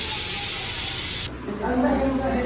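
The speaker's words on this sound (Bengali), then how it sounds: "ভাবি হলো তাড়াতাড়ি করে প্রেশার কুকারে রান্না করতেছে" A pressure cooker on a gas stove lets out a loud steady hiss of steam, which cuts off abruptly midway and leaves quieter kitchen background noise.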